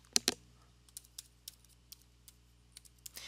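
Keys on a computer keyboard clack in a brisk burst, then settle into a sparser run of individual taps, close and fairly quiet against a low hum.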